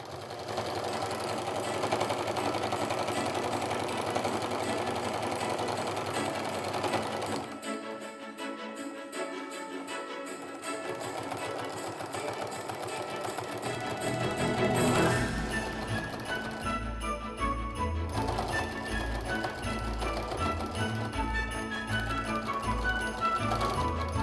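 A sewing machine stitches a quilted Christmas stocking seam through several layers with a generous quarter-inch allowance, running steadily and close for long stretches, with a brief quieter pause midway before the motor picks up again.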